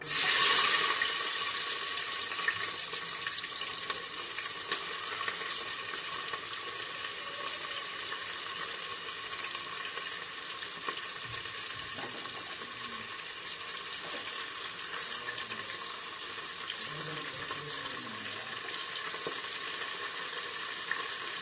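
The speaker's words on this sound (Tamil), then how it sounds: "காஞ்ச வாட்டி வெங்காயம், பச்சை மிளகாய் எடுத்து போடணும்." Onions and green chilies sizzle steadily in hot oil for a country-chicken biryani, a continuous close frying hiss lasting about twenty seconds with a few faint clinks of stirring and no talk.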